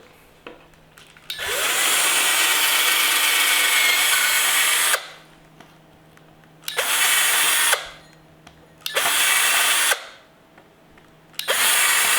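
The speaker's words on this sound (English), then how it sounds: "So I got a drill bit about the same size as the holes, and you just have to re-drill it." A power drill re-drills epoxy-filled bolt holes in a resin-coated skateboard deck, running loud and close in one long burst and then three shorter bursts, with quiet pauses between them.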